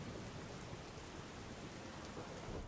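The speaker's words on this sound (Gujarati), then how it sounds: "મુંબઈમાં જે રીતે વરસાદ પડી રહ્યો છે" Rain falls steadily in Mumbai, a soft, even wash of hiss with no breaks, distant and faint.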